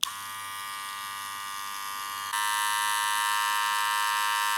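A hair clipper buzzing steadily up close, its whine jumping slightly higher and louder midway, then holding constant.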